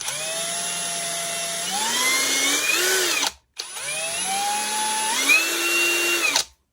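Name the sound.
cordless screwdriver drill running with a straight bit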